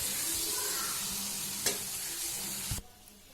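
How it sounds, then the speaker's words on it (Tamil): Masala and tomatoes stirred in a sizzling pan, a steady scraping, frying hiss with a couple of sharper knocks before it cuts off suddenly. "மசாலாஸை போட்டு ஒரு பெரட்டி இந்த மாதிரி பெரட்டிட்டு"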